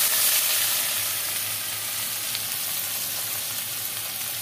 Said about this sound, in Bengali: পেঁয়াজ কুচানোটা একটু ভাজা হবে